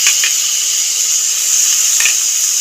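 Spice-washing water poured into frying spices with chilli powder and turmeric, giving a loud, constant hissing sizzle with a couple of faint utensil taps.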